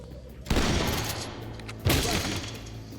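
Two heavy shotgun blasts boom about a second and a half apart during a police breach in the tactical shooter Ready Or Not, each with a loud attack and a rumbling tail over a low background.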